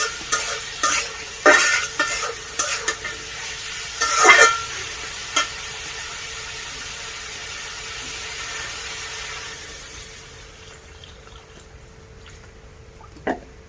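Vegetable stalks are stirred and sautéed in a pot on an outdoor clay stove, with clattering spoon scrapes and knocks over a soft sizzle early on, which then fades to a quiet simmer.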